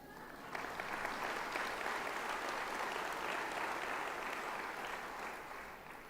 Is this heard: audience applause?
yes